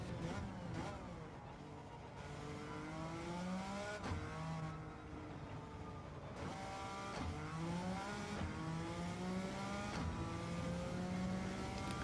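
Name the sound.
race car engine during time trial lap in Gran Turismo 7 video game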